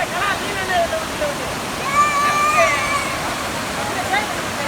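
Sastha Kovil waterfall near Rajapalayam, a steady broadband rush of falling water filling the whole clip at an even level, with faint voices and whistle-like tones drifting over it.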